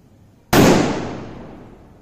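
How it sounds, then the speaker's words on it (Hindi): A Dynamite sutli hydro firecracker goes off in one sharp, very loud bang that rings out and fades over more than a second. "डायनामाइट नाम का है यानी कि काफी जोरदार आवाज होगी एकदम तीखी"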